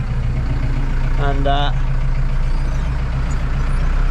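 A tractor pulling a trailer runs with a steady low, throbbing engine drone; a short spoken word rises briefly over it early on.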